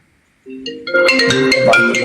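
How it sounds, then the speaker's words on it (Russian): A phone ringtone bursts in after a short silence, a loud bright electronic melody with layered tones playing continuously up close. "Подожди, звонит, звонит, звонит, звонит."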